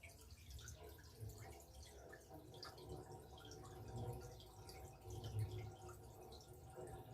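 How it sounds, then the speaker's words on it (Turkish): Dirty water runs from the drain hose of a BOOD mini caravan washing machine: a steady, close trickle and splash with faint dripping that continues throughout, with no voices. "hortumu bıraktığınız zaman zaten pis su çıkıyor"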